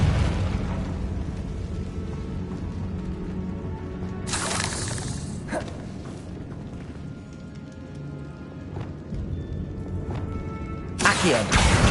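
A blasting-spell explosion in the Hogwarts Legacy game, a sudden loud burst that hangs briefly in a tomb setting, followed later by a second similar blast, all over a constant ambient game bed.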